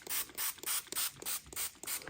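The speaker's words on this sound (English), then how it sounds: "Let's spray this because I want the color to move more." Spray bottle misting ink onto an acrylic painting, a series of about eight short, rhythmic pumped sprays with brief gaps between them, close and clear.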